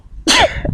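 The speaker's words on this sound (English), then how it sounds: "I just sneezed." A single sharp, explosive sneeze from one person, short and loud, preceded by a quick intake of breath and followed by a brief trailing exhale.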